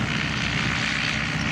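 A replica two-seat Nieuport 12 propeller biplane takes off at an air show in Pardubice, its engine a loud, steady drone filling the whole stretch without a break.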